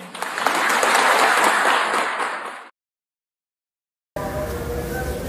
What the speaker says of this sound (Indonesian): Bu Menteri beri tepuk tangan dong.